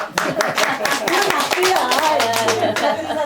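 A small group at a meditation centre lecture claps hands in a brief burst of applause, close and lively, with a low voice murmuring underneath.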